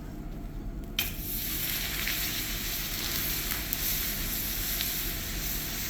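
Molten lava poured onto water in an Icelandic lava show cools into volcanic glass, giving off a continuous loud sizzling hiss of escaping steam that starts with a sharp onset.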